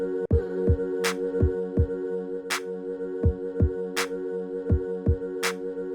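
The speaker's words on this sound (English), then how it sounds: "Let's play it back with the drums" Beat playback on a LIVEN LoFi-12 groovebox with drums added: a steady lo-fi loop of sustained tonal chords with a regular kick pulse and periodic snare hits, alone without voices.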